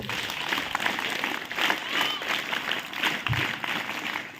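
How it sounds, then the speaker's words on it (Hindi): A crowd claps together in a steady, dense patter of many hands, moderately loud, with voices mixed in. "Hands up, claps go."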